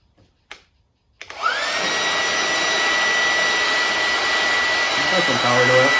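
A Bauer battery-powered inflater/deflater, running on a 20-volt battery, gives a few clicks, then spins up and settles into a loud, steady whining blower drone up close that continues to the end.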